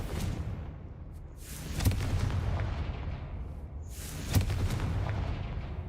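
Two booming fire-spell blasts from Hogwarts Legacy, each a sharp crack swelling into a rumbling roar that fades slowly, the second about two and a half seconds after the first, heard close with no talking.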